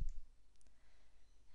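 A single soft mouse click, close and brief, followed by quiet room hiss, from measuring distance in Sirona Galileos 3D cone beam dental imaging software.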